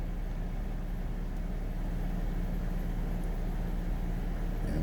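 A 2013 Infiniti G37 sits running after being started, its engine giving a steady, even idle drone with constant low rumble and no talking.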